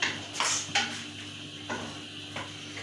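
Chicken macaroni stirred in a pan, a handful of clinks and scrapes of a utensil against the metal, sparse and fairly close, with a faint low hum beneath.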